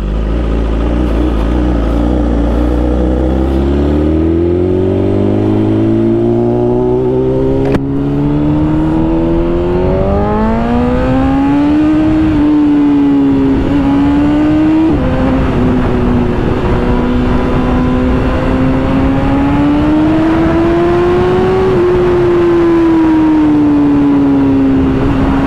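A BMW S1000RR motorcycle engine accelerates hard through rising revs with gear changes, its loud, close, steady whine climbing in pitch and then holding high.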